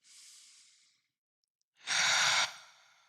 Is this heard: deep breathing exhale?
yes